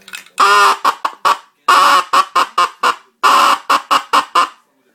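A mallard duck call blown to imitate a teal hen, in three quick series of loud, sharp quacks, each a longer note followed by several shorter descending ones, close and alone.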